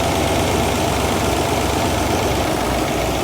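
A carbureted engine idles steadily while its idle mixture screws are adjusted, slowed to about 800 RPM, with a loud, even low rumble and a faint rhythmic knock throughout.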